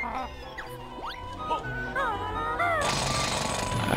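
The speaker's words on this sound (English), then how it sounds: "But we gotta continue drilling all this crap again." A steady mechanical drilling rattle from the Banjo-Tooie video game on Xbox runs loudly through the second half, preceded by chirpy game tones and bleeps.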